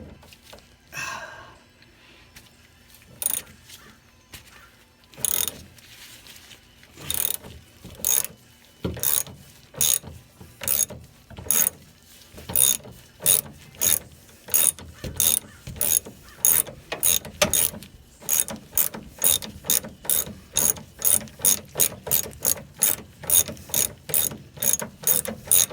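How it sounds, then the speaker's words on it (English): A ratchet wrench clicks in steady strokes while removing a Porsche 914 A-arm, starting in sparse bursts and speeding into a loud, close, rapid even rhythm, with a faint breath or sigh. "Okay, let's switch to the ratchet."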